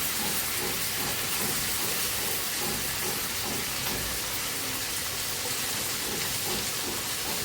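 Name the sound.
frying sweet corn and chillies in hot oil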